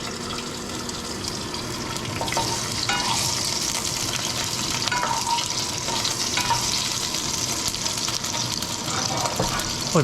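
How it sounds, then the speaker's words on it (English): Beef and pepper stir-fry frying in a pan with popping oil splatter, a steady broadband sizzle with clatter of stirring and occasional sharper pops, close and continuous. "Oh, there's definitely some splatter."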